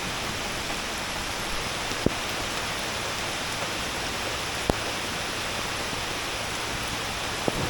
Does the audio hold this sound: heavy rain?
yes